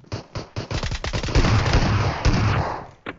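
Rapid burst of loud gunfire from PUBG Mobile, a shotgun firing repeatedly in quick succession, dense and close, ending with one more sharp shot after a brief gap.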